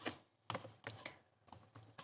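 Fingers tap out code on a computer keyboard in short clustered bursts of crisp clicks, close and quiet, with brief pauses between groups of keystrokes.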